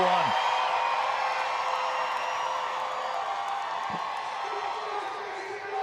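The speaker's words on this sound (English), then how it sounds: "Oh, listen to the crowd" Crowd at a baseball stadium in Tacoma, a steady broad roar of cheering that holds for several seconds without a break.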